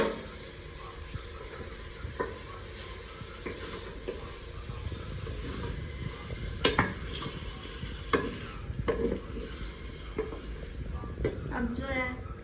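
Tomatoes with garlic ginger paste fry in a pot, a soft steady sizzle broken by scraping stirs and occasional clinks of a utensil against the metal, fairly faint and close.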